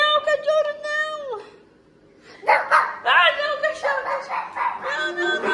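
A dog at home barks and yips in several sharp, high-pitched bursts, close by and loud, mixed with excited human voices talking over it.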